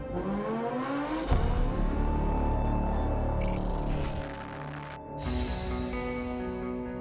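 Lamborghini Huracan Performante engine while driving, revving and accelerating through several gear changes, loud and close with a sharp rise partway through and brief dips between pulls.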